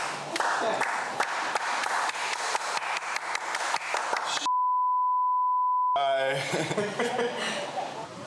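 Lifeguards on a beach give a slow clap, individual claps ringing out one after another, then a steady censor beep cuts in and talk follows.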